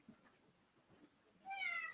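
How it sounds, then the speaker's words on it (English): A pet cat lets out a single short meow near the end, close by and moderately loud, after a near-silent stretch of faint room noise. "let my cat out of the room here before he meows his head off"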